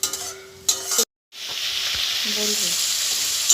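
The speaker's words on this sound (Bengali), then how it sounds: "এবার এটাকে আমি খুব ভালো করে কষিয়ে নেব" Masala for a doi katla fish curry sizzles steadily as it is sautéed in a pan, close and continuous, with a few spoon knocks, a short silent break and a brief spoken word at the start.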